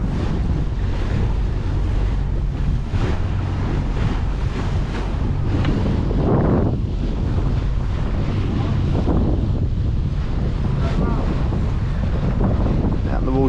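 Early-morning breeze out on the water aboard a boat, with wind buffeting the microphone in a loud, steady roar over lapping waves. A voice is faintly audible beneath it.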